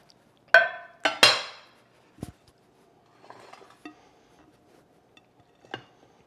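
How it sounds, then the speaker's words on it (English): A few loud, close clattering knocks of a baking dish being set down on a kitchen counter, ringing briefly, followed by quieter scattered clinks and taps with no talk. "Get my baking dish over here."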